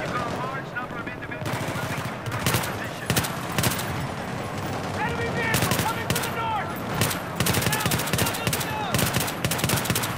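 Gunfire in Battlefield 3 crackles in loud repeated bursts and single shots over a dense battle backdrop, with a voice talking in between.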